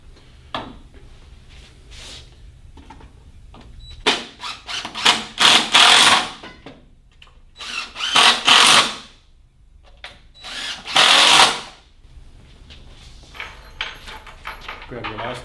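Screws driven into the runner of a sewing workstation with a power driver, several bursts of whirring of varying length separated by pauses and small handling clicks, close and alone.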